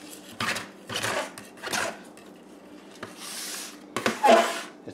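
A hand tool scrapes endive microgreens off a growing screen in a series of short, rasping strokes, about five close-up bursts separated by brief quiet gaps.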